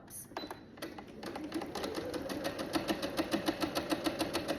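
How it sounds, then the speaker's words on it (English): A sewing machine stitches fabric along a marked line on a quilt sampler block, starting after a few light clicks and building into a steady, close, rhythmic needle chatter. "Like the way I'm sewing, my needle is to the left of the line."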